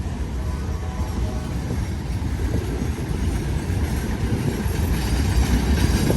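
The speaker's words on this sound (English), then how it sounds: "There's a short train, 36 axles. It's coming southbound on the track closest to me." A short southbound CSX freight train with boxcars rolls past a three-track railroad crossing, a loud, steady low rumble of wheels and cars close by, with no talking.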